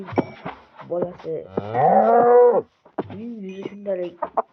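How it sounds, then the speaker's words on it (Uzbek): A baby cow in the Minecraft video game gives a few bleating moos, close and loud, separated by short pauses. "Mana bu buzoqcha."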